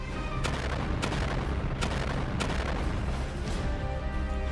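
Houthi missiles strike the cargo ship MV Tutor at sea, with five sharp explosive bursts spaced unevenly over a constant loud rumbling background.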